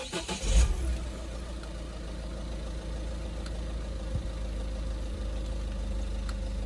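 A Citroen Berlingo engine starts with a brief loud burst, then settles into a steady, close mid-pitched idle that runs unbroken to the end.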